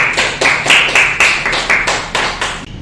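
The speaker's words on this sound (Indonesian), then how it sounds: "Kita beri aplaus dulu ke kelompok 1" A chemistry micro-teaching class claps for a presenting group, a loud, close, evenly spaced run of about nine sharp claps that ends abruptly.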